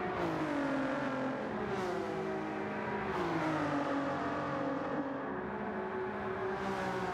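Several race cars in Gran Turismo 7 roar together at Watkins Glen, including a Toyota Supra and a Ford GT, with engine tones rising and falling through gear changes. The sound is loud and continuous, with no talk.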